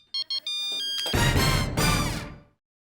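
A mobile phone rings with a few short electronic tones followed by a louder, fuller ringtone burst that cuts off, close and clear with no talk over it.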